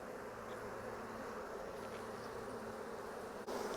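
A dense, steady buzz of many honeybees in an Apimaye hive close by, continuous and fairly quiet, with no voices.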